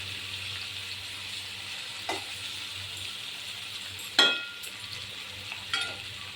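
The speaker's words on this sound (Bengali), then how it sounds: "সুন্দর লাল লাল মতো করে ভাজবো।" Bitter gourd and potato pieces with onion frying in a pan give a soft, steady sizzle, broken by three brief scraping stirs or clinks of the spatula, with no voices.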